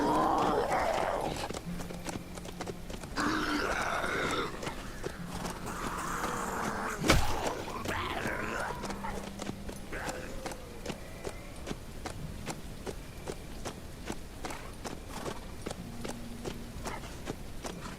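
Galloping hoofbeats of a ridden horse in the zombie survival game HumanitZ, repeated thuds running steadily at moderate loudness with a sharp knock about halfway through and other game sounds mixed in.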